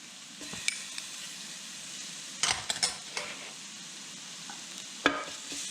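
Garlic, shallot and sliced leek sizzling in a pan, a soft steady fry with a few sharp clinks and scrapes of a utensil stirring against the pan.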